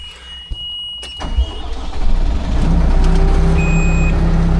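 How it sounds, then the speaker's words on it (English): A diesel vehicle running low on fuel gives off high electronic warning beeps as its engine starts and then settles into a steady mid-pitched idle, heard close with no talk. "It's beeping at me."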